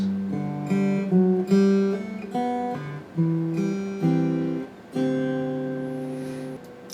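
A fingerstyle guitar riff plays alone, plucked notes ringing out in a repeating phrase of mostly open strings, with clear attacks and sustained open strings.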